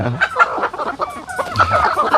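Several native country hens cluck and squawk in short, overlapping bursts, close by and fairly loud, with a busy, restless rhythm throughout.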